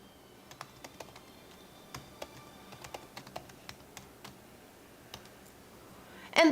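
Keystrokes on a computer keyboard as a survey title is typed into Mailchimp, a quick run of separate, crisp clicks in bursts with short pauses, fairly close and quiet, ending in a louder clatter.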